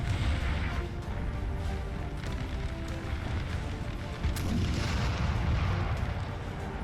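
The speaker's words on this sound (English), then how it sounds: "Come on, Russian artillery." Cannon fire in a Napoleonic-era battle from the video game Napoleon: Total War, with steady rumbling booms and battle din running loud and continuous throughout.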